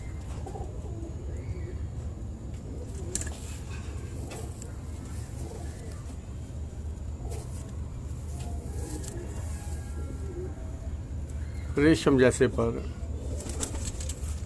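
Young teddy bear and golden dove pigeons kept indoors coo in low repeated calls under a man's speech, joined by a brief louder burst of flapping or calling near the end.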